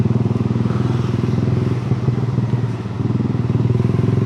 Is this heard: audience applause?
no